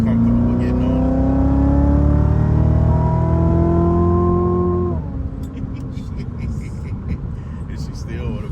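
Sports car accelerating hard, engine note climbing steadily through a long pull for about five seconds, loud and close, then easing off into a lower rumble with voices talking over it.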